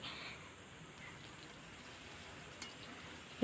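Thin rounds of raw plantain sizzle in plenty of oil over a clay wood-fired stove, a faint steady crackle and hiss running throughout with one small pop.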